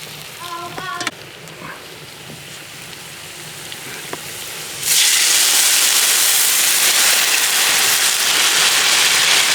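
Broth poured into a pan of fried mackerel and bream for smoked fish soup, with quiet clinks first, then a sudden loud, steady hiss of sizzling that lasts to the end.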